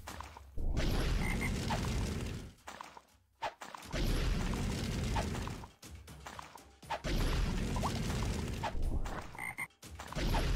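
Frogs croak in the tower defense roguelike video game Guardians of Holme, dense low croaking in repeated bursts of about two seconds separated by brief gaps, with no talking.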